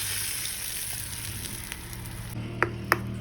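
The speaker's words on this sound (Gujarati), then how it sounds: "તો એ ગરમ વઘાર આપણે આમાં એડ કરી દઈશું।" Hot tempering of oil with curry leaves and asafoetida sizzling as it is poured into vegetable idli batter, a soft steady crackle that flares near the end with a couple of sharp pops and clinks.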